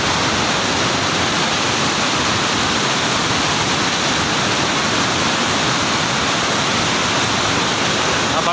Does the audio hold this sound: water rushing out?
yes